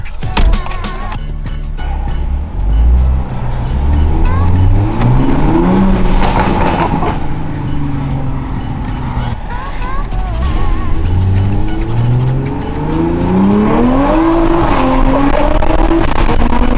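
A Toyota A90 Supra with an aftermarket downpipe revs and accelerates through rising gear sweeps, loud and close, with a raspy exhaust tone and brief shifts between pulls.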